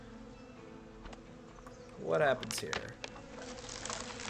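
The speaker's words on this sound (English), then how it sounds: "I'm gonna try and knock this tree down into that tree to knock out the bees." Bees swarm from a tree in the western survival game Above Snakes, giving a short, swelling buzz that rises then fades, with someone speaking briefly nearby.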